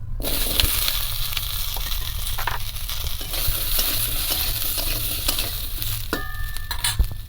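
Chopped tomatoes tipped into a hot wok, a sustained sizzle with scraping stirs, a few light metallic clinks and a short ringing tap near the end.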